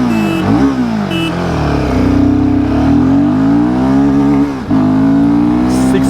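Engine revving hard as a motorcycle accelerates, pitch climbing and dropping briefly with gear shifts, loud and close.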